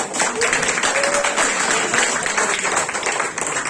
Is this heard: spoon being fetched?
no